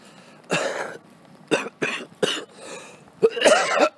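Harsh coughing from one person, a series of four or five separate bursts spread across a few seconds with the last fit the loudest, close to the listener and with no talking, from someone whose cough has worsened to the point of coughing up blood.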